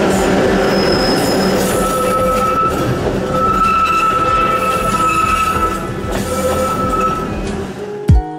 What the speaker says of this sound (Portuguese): na descida da Serra da Mantiqueira, o grito do freio do trem ecoa pelos vales